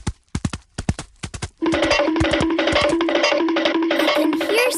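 A horse at a farm stable, heard as a series of separate hoof clip-clops followed by a loud, sustained neigh and whinny that lasts to the end.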